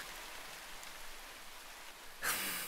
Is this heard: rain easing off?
yes